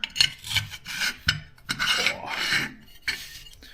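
The bolt of a Lambda Defense GHM-9-G gas blowback airsoft SMG scrapes back and forth inside a receiver with paint on its inner surfaces, making several short, close, gritty rasping strokes with no voices.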